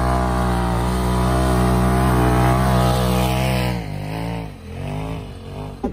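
A modified snowmobile engine with an aftermarket mod revs hard and loud close by, holding a steady high drone before dropping and surging in several uneven bursts.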